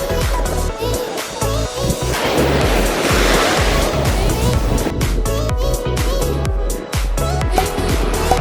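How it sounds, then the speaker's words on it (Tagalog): Loud surf washes onto a sandbar beach at Kalanggaman Island, Leyte, with a broad roar swelling in the middle and wind buffeting throughout. "You hear the waves?"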